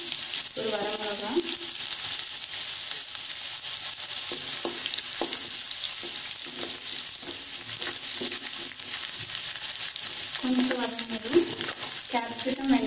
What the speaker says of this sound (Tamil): எண்ணெய் காஞ்சதும் பூண்டு போட்டிருக்கேன்